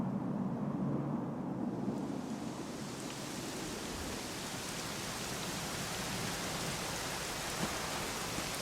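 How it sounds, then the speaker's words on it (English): Steady rainfall from the video game Dragon Quest XI, a dense, even hiss of falling rain that swells in the first couple of seconds and then holds as an unbroken wash of sound, with no voices. "it was raining like this the last time I ever saw her"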